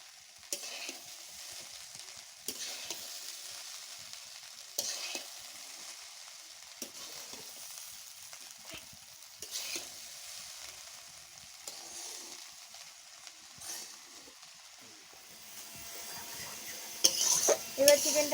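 Onion frying in oil and ghee, a quiet steady sizzle with a spoon stirring and scraping the pan at regular intervals, and a few sharper metallic clinks near the end.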